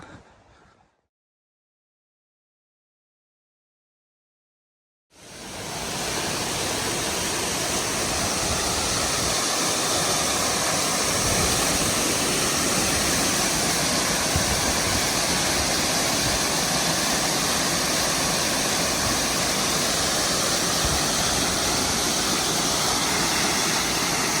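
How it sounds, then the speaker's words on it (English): Long Creek Falls on the Appalachian Trail: after a few seconds of near silence, the waterfall's roar comes in and holds as a dense, steady, loud rush of crashing water close by. "let me get us to the falls, the waterfall."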